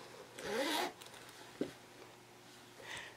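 A zipper is pulled along a small zippered fabric pouch in one quick, close, raspy stroke, followed by a soft tap and a faint second zip near the end, with no talk.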